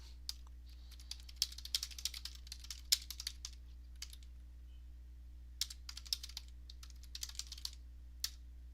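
Computer keyboard typing in irregular quick bursts with pauses, close but fairly quiet over a steady low electrical hum, no voices.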